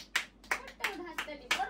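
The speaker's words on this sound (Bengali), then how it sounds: "দেখো তোমরা হাততালি দাও" A few hands clap in loose, uneven bursts during a cold-drink arranging game challenge for a cash prize, about five sharp claps spaced across a moment, close by in a small indoor group.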